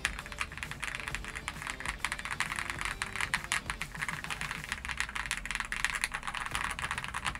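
Fast, continuous typing on a TKL mechanical keyboard fitted with a tape mod, a dense stream of close, crisp key clacks at an even loudness with no one speaking.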